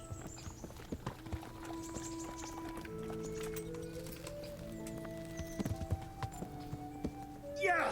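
A horse's hooves clip-clop in steady rhythm in the video game Kingdom Come Deliverance, under quiet background music. Brief voices chime in near the end.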